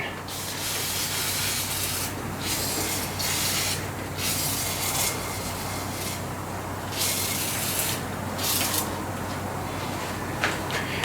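Up close, a straight hose nozzle sprays liquid onto the engine parts of a 1990 C4 Corvette undergoing head gasket repair, in repeated hissing bursts over a steady background rush.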